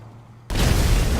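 A sudden, loud explosion in the video game GTA 5 blows up evidence, jumping from near silence into a sustained, roaring blast that fills the rest of the moment.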